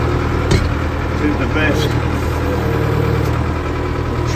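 A tractor engine idles with a steady, loud low rumble and vibration, running throughout while someone talks over it.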